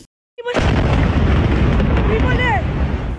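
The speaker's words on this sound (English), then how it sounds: "An Iranian missile makes it through the Iron Dome, making a direct hit, this time on a hospital in the southern Israeli city of Beersheba." An Iranian missile striking a hospital in the southern Israeli city of Beersheba, heard in news footage: a sudden, very loud, sustained roaring blast that rumbles continuously for several seconds, with faint whistling tones near the end.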